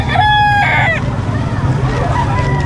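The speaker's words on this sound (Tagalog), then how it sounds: "Mga manok panabong, ayan." Roosters crow loudly and close by at a livestock market in San Carlos City, Pangasinan, where gamecocks and native chickens are sold, one long crow followed by fainter calls over a busy market murmur.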